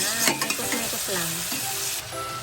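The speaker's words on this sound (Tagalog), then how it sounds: "Siyempre, mekos-mekos natin yan hanggang sa magmantika." Chicken stirred and sautéed with pepper and salt in a pan for tinola, a steady close sizzle with repeated scraping and clacking of the utensil against the pan, no talking.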